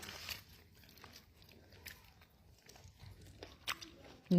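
Someone eats egg up close with soft, faint chewing and small biting crunches, scattered irregularly, with brief murmurs of voice in between.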